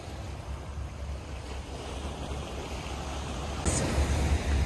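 Ocean surf washes in steadily at Sandy Bay, Pok Fu Lam, Hong Kong, with wind buffeting the microphone, a broad continuous rush that swells louder toward the end.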